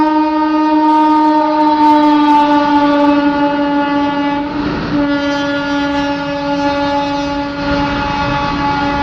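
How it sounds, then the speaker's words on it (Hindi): A train pulls into an Indian railway station, its horn sounding one long, loud, steady blast close by over a rumbling wagon roll, with no talk. "तो ये देखिए ट्रेन आ गई थी।"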